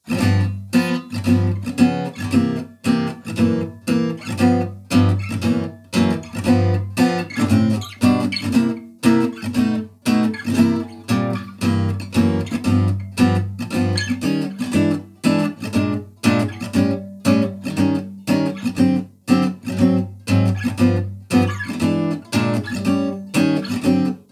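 Acoustic guitar plays a steady, bouncy fingerpicked blues pattern with a thumping bass line and plucked chords, continuous and up close.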